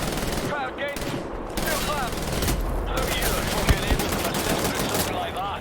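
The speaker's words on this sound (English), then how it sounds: "This guy is literally shooting through concrete with that goddamn turret." A machine gun turret in Wolfenstein: The New Order hammers away in continuous heavy bursts, loud and dense, with a voice talking over the gunfire.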